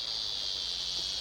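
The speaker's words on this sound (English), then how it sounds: "the cicadas have started chirping" Dense, steady insect trilling of cicadas, loud and continuous with no pauses, filling the whole moment on its own.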